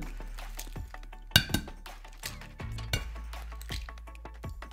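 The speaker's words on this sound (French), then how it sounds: "je vais casser mes œufs et je vais les mélanger dans un Tupperware" Eggs being beaten in a Tupperware container for scrambled eggs, light clinks and scraping taps at irregular intervals in a quiet kitchen, with a fork knocking against the sides.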